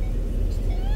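Ford Expedition SUV pulling away, a steady low engine and road rumble filling the cabin with a faint rising whine near the end.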